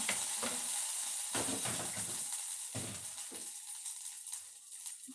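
Three red chillies fry in oil for a thuthuvalai rasam, with a steady close sizzle and repeated scraping stirs over it and no voices.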